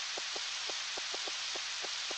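Steady rain from the Nintendo 64 farming game Harvest Moon 64, a continuous even hiss with soft repeated drip-like ticks, heard alone with no talking.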